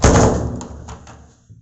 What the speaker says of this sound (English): and the lab door is locked.